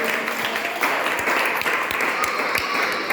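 Steady, dense hand clapping from a church congregation in worship, continuous and fairly loud with a few sharper claps standing out.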